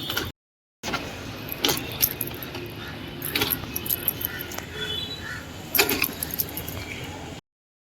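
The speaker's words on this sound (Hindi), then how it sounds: "अभी मैं किक मार मार के इसको ट्राई कर रही हूँ, लेट्स सी स्टार्ट होती है क्या" A scooter that had stood unused for 17 days is kick-started again and again at close range: a string of sharp mechanical clunks and rattles, with the engine not catching.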